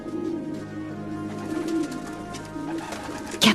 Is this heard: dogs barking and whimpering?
no